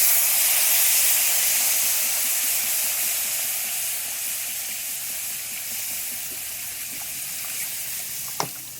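Water poured into a pan of hot, fully fried spice masala for an egg and potato curry gives a loud burst of hissing steam and sizzle that slowly settles into a steady, softer hiss, with one sharp clink near the end and no talking.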